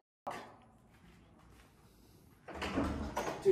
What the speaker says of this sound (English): Did you just slam the door?